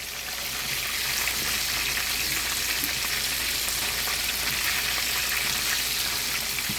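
Chicken pieces frying in a pan of hot oil for a Sunday dinner, giving a steady, dense sizzle that carries evenly the whole time with no voices.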